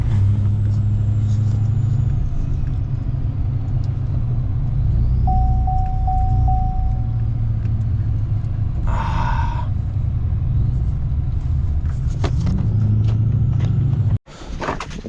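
A truck engine runs steadily with its fuel gelling up, a continuous low rumbling idle throughout with a brief tonal whine and a short burst of higher noise midway, cutting off sharply near the end.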